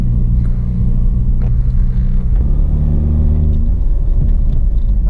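A Nissan Versa economy car with a manual transmission pulls away after a U-turn, its engine giving a loud, continuous low rumble heard from inside the cabin, with a slight shift in pitch midway as it gathers speed.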